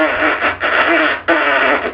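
A French horn player's lip buzz, made with lips held too tight, sounds as a loud, pinched, nasal drone in three sustained bursts with brief breaks between them.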